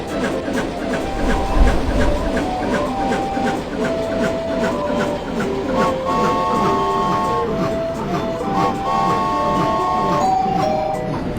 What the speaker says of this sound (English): The train is approaching Snow Mountain.